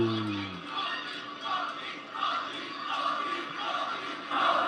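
An arena crowd in Riyadh chanting and cheering for wrestler Cody Rhodes at a WWE SmackDown event, a loud massed roar that swells in repeated rhythmic waves, with a brief voice at the start.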